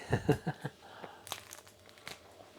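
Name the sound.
crunchy ciabatta bread being torn and bitten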